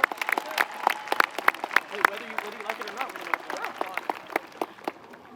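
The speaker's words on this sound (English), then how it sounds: "Let's applaud." A graduation audience breaks into scattered, sparse clapping of distinct sharp claps at an uneven pace, with voices murmuring beneath and the applause thinning out toward the end.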